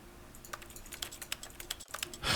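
Steady clicky keyboard typing from The Stanley Parable game, a rapid run of crisp, fairly quiet keystrokes with a brief gap and a louder burst at the end, no talking.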